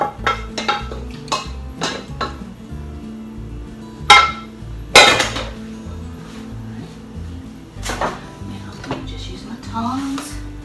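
Metal tongs clink against a pot as spaghetti is mixed into broth for chicken spaghetti, giving scattered sharp taps and scrapes with louder knocks partway through and soft stirring in between.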